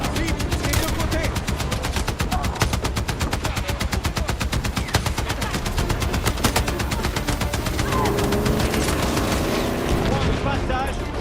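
Sustained machine gun fire in the video game Battlefield 6: rapid, evenly spaced shots hammer on loudly and continuously, easing a little near the end.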